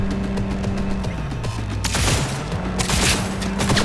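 Gunfire in Cyberpunk 2077 comes as rapid, dense bursts of shots, mostly in the second half, over a steady game soundtrack hum, close and fairly loud.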